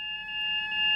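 Continuous electronic alarm tone in the cab of a Class 350 electric multiple unit in Train Sim World 5 on the West Coast Main Line, a steady high pitched beep holding level and loud throughout with no talking.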